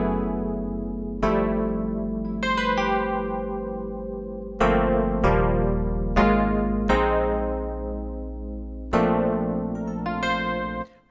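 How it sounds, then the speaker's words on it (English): Resampled hardware synth sounds played from an MPC, a series of bright, loud synth notes and chords, each struck sharply and then ringing out and decaying, in an uneven rhythm of about ten hits. "What you're hearing are sounds that are only coming from inside the MPC"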